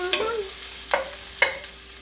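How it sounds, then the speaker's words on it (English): Mushrooms and onions frying in oil are stirred in a pan, a steady sizzle broken by three distinct scraping strokes of the spoon, close and clear with no talking. "Stir it around."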